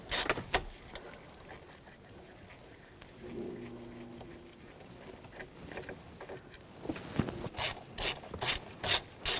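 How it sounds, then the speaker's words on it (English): Socket wrench with a T15 socket backing out small screws on a 2014-2018 GMC Sierra 1500 ignition switch, a soft rasping ratchet sound that builds into a run of quick, close, fairly loud clicks near the end. "We're going to take these two screws out, use a T15 socket."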